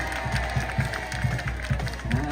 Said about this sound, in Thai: เสียงเชียร์ดังมากนะครับ